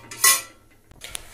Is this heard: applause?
no